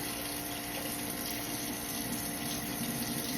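Chili peppers washed under a running kitchen tap, a steady continuous gush of water, close and even throughout, with no talk.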